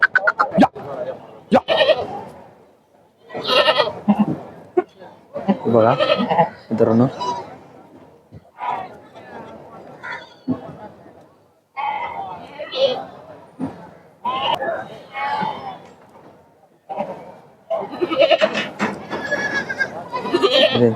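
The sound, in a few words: goats bleating at a goat market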